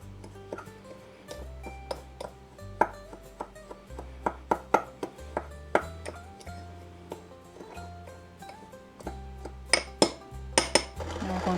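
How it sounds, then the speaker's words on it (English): A spoon scrapes and clinks against a bowl while cinnamon and sugar are stirred, making repeated close knocks and clicks over a low steady hum from another source. "Make sure the cinnamon's all stirred up in there."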